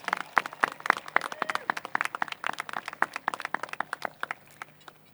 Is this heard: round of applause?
yes